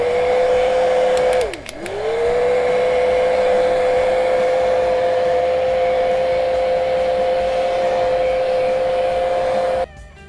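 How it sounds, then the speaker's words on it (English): A hair dryer drying paint on a painting blows with a steady high whine and airy rush, briefly dipping in pitch early on before returning to a constant drone, then cutting off. "I'm going to make a little bit of noise, dry this real quick."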